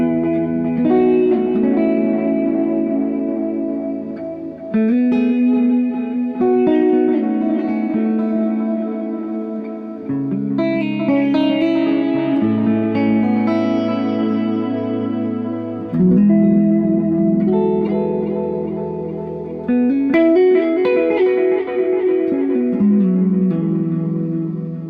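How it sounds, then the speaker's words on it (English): Electric guitar runs through a Roland Space Echo tape delay, melodic phrases trailing into repeating echoes and reverb that overlap continuously at steady volume, with no talk. "accompanied by some nice delay guitar played through it"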